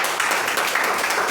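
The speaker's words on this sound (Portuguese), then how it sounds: "vamos aplaudir aquele homem." A burst of applause from a crowd, steady hand clapping filling the whole moment at close range.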